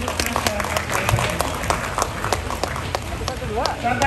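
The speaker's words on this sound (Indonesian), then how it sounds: "Tepuk tangan untuk masyarakat" An audience at a civic wedding ceremony in Tegal claps in a busy, uneven patter, with sharp individual claps standing out and voices murmuring and calling through the noise.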